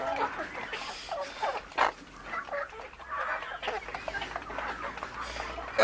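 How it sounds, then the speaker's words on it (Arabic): Chickens cluck and squawk in a busy, fairly faint jumble of overlapping calls, with bursts of louder cackling scattered throughout. "يا رب سكت الفراخ دي لحسن انا صدعت خلاص"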